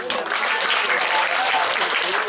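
A crowd watching a Balinese comic Petruk performance during a Calonarang show at Pura Dalem Silungan gives loud, dense applause that carries on without a break.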